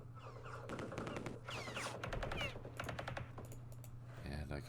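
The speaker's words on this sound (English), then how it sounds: "And I can shoot again." Rapid bursts of machine-gun and rifle fire in the video game Campaign Series Vietnam, loud overlapping volleys over a constant low engine-like hum, with a short pause before a final clatter.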